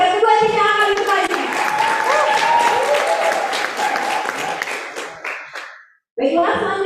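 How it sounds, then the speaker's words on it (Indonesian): An audience applauds at a national constitutional debate grand final, dense clapping with scattered voices that rises quickly, holds, then tapers into a brief silence before sound resumes. "Mari kita beri tepuk tangan indah kepada kedua tim yang akan bertanya."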